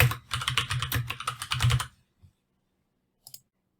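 Rapid bursts of computer keyboard typing for about two seconds, close and crisp, then silence broken by two isolated key clicks, with no talking.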